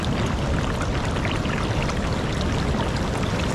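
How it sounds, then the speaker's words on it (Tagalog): Typhoon floodwater pours across the Dipolog boulevard in a steady, loud, broadband rush with no breaks, close and unbroken throughout. "Dito dumadaan yung tubig."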